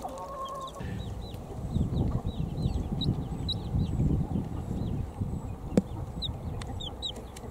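Nine young chicks just brought home from a hen supplier, cheeping in a box as a steady scatter of small high chirps over a low rustling and clucking background, close by and with no speech.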